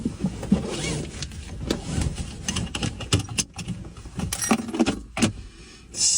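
Keys jangle and clink in sporadic bursts near a car, with rustling and handling noises in between and no talk.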